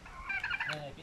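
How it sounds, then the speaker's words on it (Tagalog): A domestic turkey at a rural house gobbles in a quick rattling burst, fairly close and loud over quiet background, with no talk. "nakikita nyo may pabo po sila"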